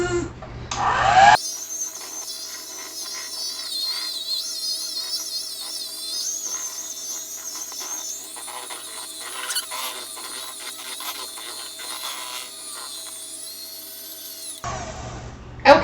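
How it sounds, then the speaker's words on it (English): An electric hand mixer whirs through a thick batter, a continuous high-pitched motor whine whose pitch wavers with the load for about thirteen seconds before it stops. "Got my handy dandy mixer here, and this won't take any time at all."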